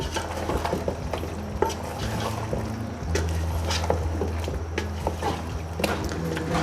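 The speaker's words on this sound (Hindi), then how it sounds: "अब हम इसे अच्छे से हिला लेंगे।" A spoon stirs trotters curry masala, with salt and black pepper, as it fries in ghee in a pot, giving a steady run of scraping and soft sizzling with occasional sharper knocks against the pot.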